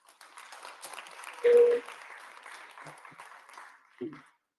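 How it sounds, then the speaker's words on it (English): Audience at a Ghana Independence Day teaching artist event applauds, a moderate wash of clapping with a loud burst partway through, fading toward the end. "clap for yourselves, praise the Lord"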